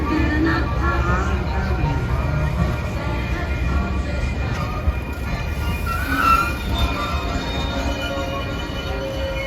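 The CKC Holiday Train rumbles past close by, wheels clattering and squealing faintly over a steady low roar.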